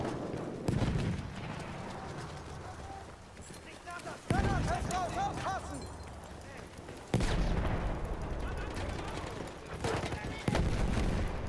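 Gunfire in a World War I Verdun battle game comes as several loud, abrupt shots spaced a few seconds apart over continuous battle noise, with voices shouting in between.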